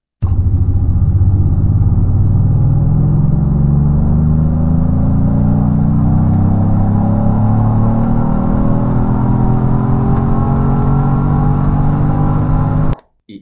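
Genesis GV80 Coupe with the 3.5 turbo engine and twin dual exhaust mufflers, giving a steady, loud, deep engine rumble that rises slowly in pitch as it revs, close by and with no talk, cutting off abruptly at the end.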